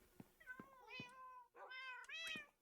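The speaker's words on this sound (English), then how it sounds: "I hear cats." Two cats in a video game meow in quick succession, a few short, bright, wavering cries close by against near silence.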